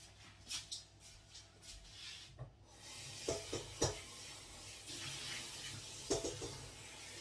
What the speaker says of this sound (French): Je vais rincer mon plat du coup.